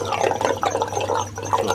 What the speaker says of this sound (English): You can see the water's all draining out.